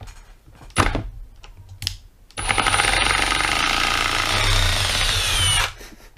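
A Milwaukee Surge hydraulic impact driver, set to speed 2, drives a fastener into wood: a sustained whirring, rattling burst of about three seconds, loud and close, following a couple of short clicks and taps, with no talk.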